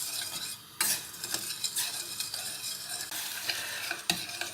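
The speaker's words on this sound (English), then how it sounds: "make sure you keep stirring this" A spoon stirring sweet and sour sauce as it heats toward a boil to dissolve the sugar, repeated scraping strokes against the pot over a soft bubbling sizzle, close and unaccompanied by voices.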